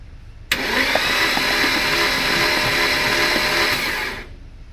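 An engine cranking with its spark plugs removed spins over with a fast, even whirring buzz, starting abruptly, holding steady for about four seconds and then stopping, loud and close.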